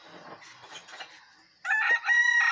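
A rooster fighting a duck in a corral lets out one short, loud crow after a moment of softer scuffling and clucking.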